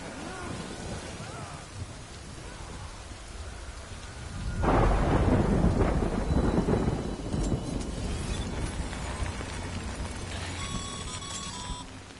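Rain and thunder in the video game Death Stranding: steady rainfall hisses throughout, and a deep rumbling thunderclap rises midway and rolls on beneath the downpour, with no talking.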